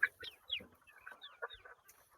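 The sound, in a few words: chickens clucking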